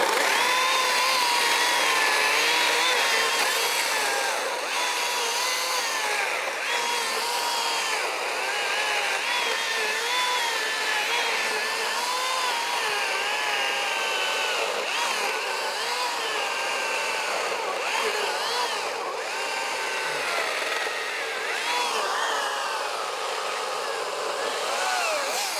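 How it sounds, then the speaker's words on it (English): A small, light electric chainsaw cuts through a tree limb, its high whining motor running continuously with slight pitch wavers as it bites into the wood, fairly close, without speech. "I'm gonna take my little electric chainsaw and just see what it's got. And see if I can cut the rest of this off."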